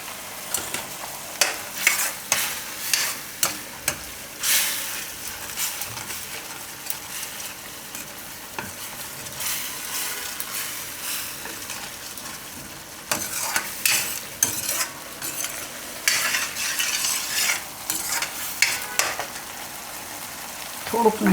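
Spices sizzle in oil in a pan for stuffed bottle gourd curry, with salt, turmeric, coriander-cumin powder and Kashmiri chili: continuous close frying with repeated scraping stirs of a spoon against the pan.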